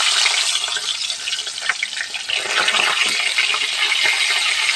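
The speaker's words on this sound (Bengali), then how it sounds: "এই গরম তেলে আমি আগে যে মাছটাকে হলুদ নুন দিয়ে মাখিয়ে রেখেছি সেটাকে তেলে দিয়ে দেবো" A hilsa fish head rubbed with turmeric and salt fries in hot oil with a loud, dense, crackling sizzle that holds steady throughout, alone and close.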